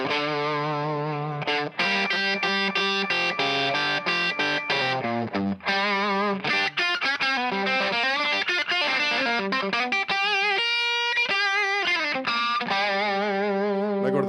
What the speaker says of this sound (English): This is more of the blues breaker combo.